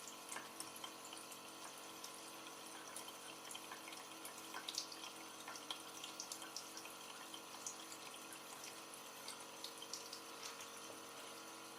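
A water pump runs with water flowing through it, a steady, faint, continuous wash with small trickling details throughout and no talk.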